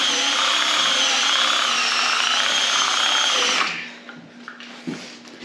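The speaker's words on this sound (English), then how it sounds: "You're really buffing it out, aren't you?" A rotary brush whirs steadily as it buffs wax off a ski for about three and a half seconds, then stops abruptly, leaving a few faint knocks and quiet room sound.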